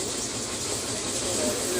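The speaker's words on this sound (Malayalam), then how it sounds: "ട്രെയിനിലാണ്" Inside a moving train, a steady broadband rumble and hiss of the carriage fills the whole stretch at even loudness, with no distinct events standing out.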